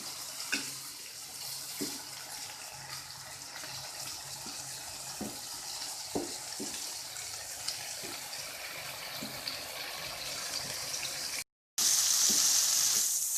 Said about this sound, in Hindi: थोड़ी देर इसे फ्राई करेंगे।